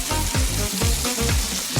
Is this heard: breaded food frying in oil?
yes